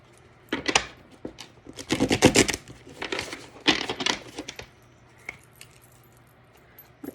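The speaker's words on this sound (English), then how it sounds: "Mixing the two cards that I drew earlier." Oracle cards shuffled and mixed by hand, papery riffles and soft slapping in bursts, close and moderately quiet, then thinning out to a few light taps.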